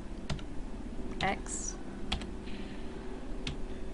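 Scattered computer keyboard key clicks, a few sharp taps spread across a few seconds over a steady background hum, while someone plays a London Underground train simulator.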